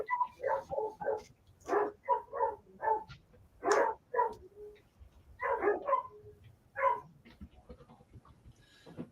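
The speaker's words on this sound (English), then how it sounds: "the doggies are not happy tonight" Dogs barking at night in repeated short bursts, fairly close and moderately loud, with brief gaps between the barks.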